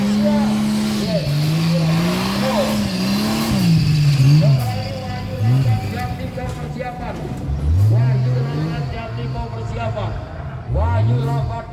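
Off-road 4x4 engines rev and rise in pitch at a 4x4 race at Sirkuit Janoko, Yogyakarta, Indonesia, with loud rising and falling whines throughout. An announcer talks over it steadily.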